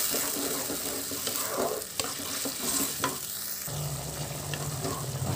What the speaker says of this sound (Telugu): పచ్చి వాసన వరకు వేయించుకోవాలండి।